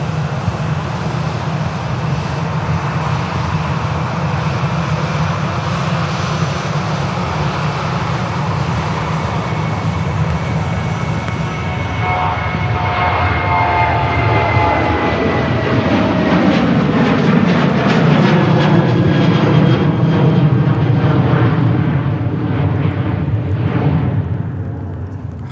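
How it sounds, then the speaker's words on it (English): Ryanair jet accelerating on its takeoff roll at Manchester Airport, a loud, steady engine roar with rising whine that swells and deepens toward the end, heard from a distance with no talk. "Ryanair is on the takeoff roll while these jets just vacated."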